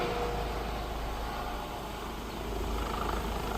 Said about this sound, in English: that's noisy. Helicopter.